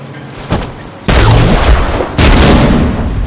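Artillery turret in The Division 2 firing two heavy booming shots about a second apart, each a loud broadband blast that rolls into sustained rumbling gunfire-like roar, close and dense with no talk.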